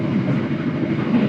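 Malioboro Ekspres passenger train running near Purwokerto station, a steady low rumble and wheel drone heard from inside the carriage, continuous and moderately loud with no voices.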